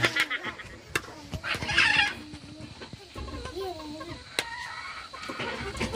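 Chickens kept at a forest homestead cluck and squawk close by in uneven bursts, while a person talks over them.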